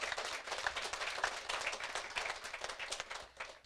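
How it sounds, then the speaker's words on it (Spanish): A church congregation applauds during a sermon, a steady, fairly quiet patter of many hands clapping together throughout, with no speech over it. "Fuertes aplausos al Rey de Reyes y al Señor de Señores"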